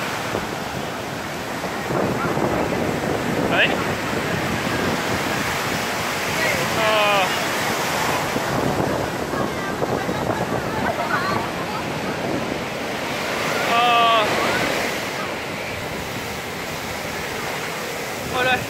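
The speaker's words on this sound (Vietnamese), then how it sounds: "sóng đấy," Sea waves wash onto the beach at Kỳ Co near Quy Nhơn beside a pier, a steady loud roar of surf and wind buffeting, with voices talking and calling now and then.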